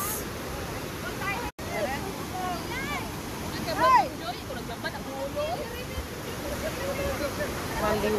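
Aliwagwag Falls, a large waterfall in Cateel, Davao Oriental, gives a steady broadband roar. Several people talk and exclaim over the continuous rush of water throughout.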